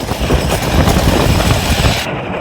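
Riding the Mind Blower compact roller coaster at Fun Spot during a Halloween event, a loud, dense rumble and rattle of the train on the track that drops away abruptly near the end.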